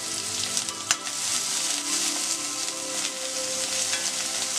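Chopped ginger and garlic stir-fried in a pan for chicken spring rolls, with a loud, continuous sizzle and occasional stirring clinks close by.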